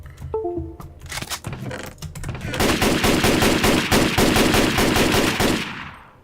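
Loud, rapid automatic gunfire from the video game Rust, a fast unbroken stream of close shots that grows denser and ends in a short fading tail.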